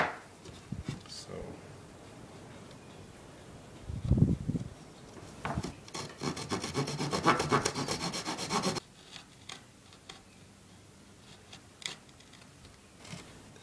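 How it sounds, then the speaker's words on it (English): A chisel shaving a mahogany lining inside a tenor guitar body under construction: close, soft scraping and rubbing strokes, including a sustained raspy stretch midway, separated by light taps and quiet pauses. "this lining is made of mahogany, so it's pretty easy to work with a chisel."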